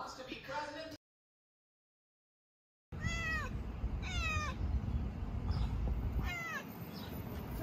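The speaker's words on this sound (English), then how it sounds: "There's a litter of stray kittens living underneath the Airbnb." Stray kittens living under a rental house meow in a repeated series of short, rising cries, fairly close and clear over a steady low rumble of background noise, after a brief stretch of silence.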